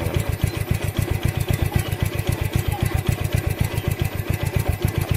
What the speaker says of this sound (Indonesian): Suara geretak itu dari kopling